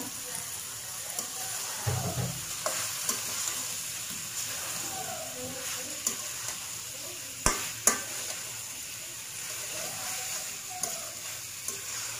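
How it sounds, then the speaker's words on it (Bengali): Cauliflower florets sauté in a pan with a steady close sizzle, broken by occasional scraping stirs and two sharp knocks near the middle. "এখন এর মধ্যে আমি ফুলকপিগুলো দিয়ে দিতেছি, দিয়ে এটা ভালো করে কষিয়ে নেব।"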